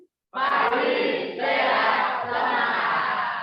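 Students on a Zoom class call perform a group clap-chant. After a brief silence, a loud, sustained mass of voices in unison runs for about three seconds, with claps mixed in.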